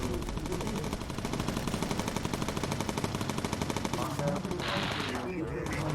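Machine gun fire from a bomber gunner in the game Bomber Crew, rapid sustained bursts of evenly spaced shots, loud and close, running almost the whole time.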